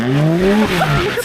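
BMW F80 M3 drifting, tyres squealing loudly and close over a straining engine note that rises and falls through the slide.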